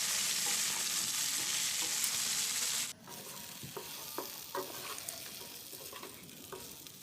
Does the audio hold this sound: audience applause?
no